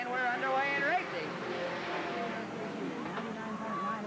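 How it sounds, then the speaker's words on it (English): Race cars roaring around Willamette Speedway at a green-flag start in 1988, engines droning and shifting pitch beneath a steady announcer's voice calling the action. "Fourth corner, we got a green flag, and we're underway in racing."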